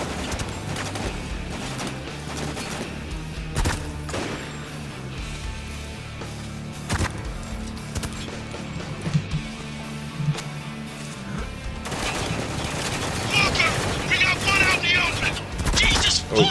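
Gunfire in the Spec Ops: The Line video game: repeated sharp shots and bursts crack through a dense battle din, growing busier toward the end, with voices shouting over the fighting.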